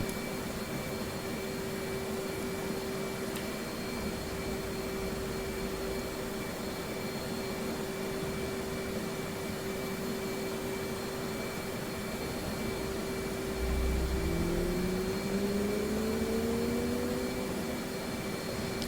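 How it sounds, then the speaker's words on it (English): F/A-18 Hornet jet engine spooling up in a flight simulator, with a steady whining hum and a rising tone as the second engine cranks, growing slightly louder near the end. "we'll go ahead and start the next engine"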